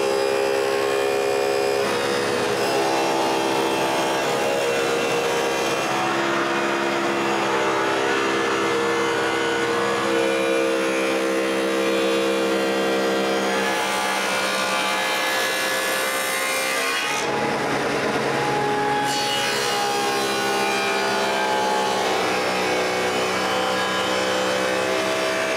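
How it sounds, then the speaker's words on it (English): A power tool cuts grooves along wooden bookcase rails to take plywood panels, giving a loud, sustained whine and rasp that runs for the whole stretch, dipping briefly between passes, with no voices. "it's time to cut a groove in each of them for the plywood panels."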